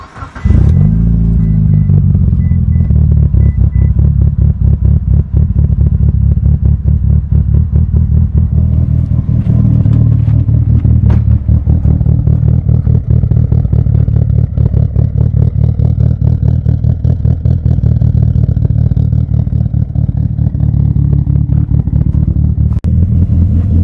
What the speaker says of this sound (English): Let's go ahead and start up the car and see how it starts.